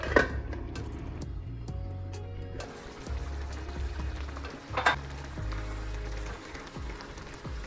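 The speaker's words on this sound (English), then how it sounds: "just mix everything together and allow for the stew to cook." Tomato gravy stew cooking in a pot, giving a continuous low bubbling sizzle with scattered clinks and scrapes of stirring, one sharper knock near the middle, close by and without talk.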